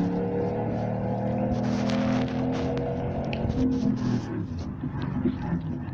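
Car sound played on an Alexa smart speaker: a steady engine drone that rises into a revving surge with rattly bursts midway, then settles back, close and continuous with no talk.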